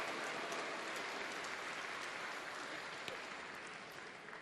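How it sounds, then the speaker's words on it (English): A crowd at the 2015 World Women's Curling Championship bronze match between Scotland and Russia gives faint, distant applause, a soft continuous patter of clapping in a large arena with a few sharper claps standing out. "Getting a round of applause from the crowd here."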